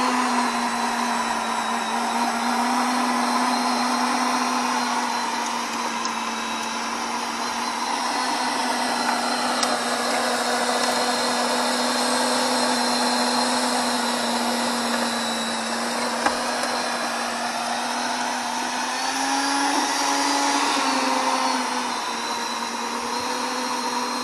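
A Scotts 13.5 amp electric tiller running, a continuous motor whine holding a steady pitch with shifting grinding texture as the tines churn soil and grass, close and unbroken with no talk.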